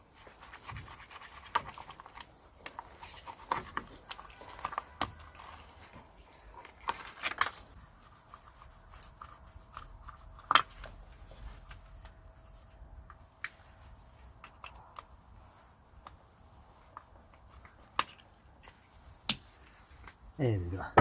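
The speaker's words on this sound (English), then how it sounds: "we're just going to cut this CV gator with a Stanley knife." A Stanley knife slices through the rubber CV joint gaiter on a Ford Transit: scattered close scratching and cutting strokes with sharp clicks and snaps, spread over about twenty seconds.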